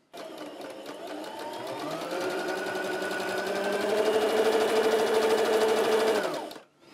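A domestic sewing machine stitches fabric in one continuous run of about six seconds, close and steady with a rising whirring pitch, then stops abruptly.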